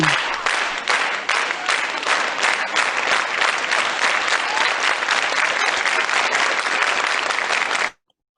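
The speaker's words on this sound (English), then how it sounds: "And the crowd goes wild again for the Fred Show" A studio audience at a comedy talk show applauds and cheers loudly and continuously for about eight seconds, dense clapping that stops abruptly into silence.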